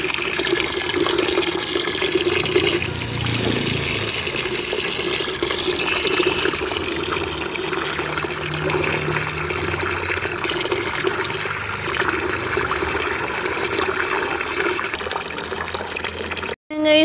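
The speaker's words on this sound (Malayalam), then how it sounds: "നമുക്ക് ഈ അളവ് വരെ വെള്ളം നിറയ്ക്കാം" Water pours steadily into a large can for clay making, a continuous rushing and gurgling fill that lasts throughout at a fairly constant level, close by.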